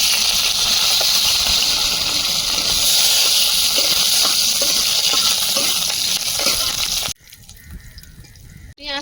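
Whole garlic and slit green chillies fry in hot oil, a steady loud sizzling hiss with faint pops that cuts off abruptly near the end, leaving quiet clinks.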